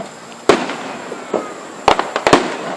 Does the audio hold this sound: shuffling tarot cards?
no